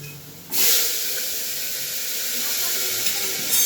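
Potatoes go into hot oil with a sudden loud, bright sizzle. The hiss keeps up steadily after the drop, and another faint splash comes near the end.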